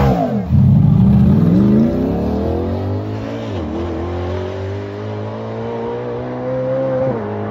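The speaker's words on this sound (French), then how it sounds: "Un V16 atmosphérique à l'arrière d'une Bugatti." Naturally aspirated 8.3-litre V16 mounted at the rear of a Bugatti Tourbillon hypercar, loud and close, rising in a sharp rev that settles into a sustained high engine note, dips briefly, then climbs again.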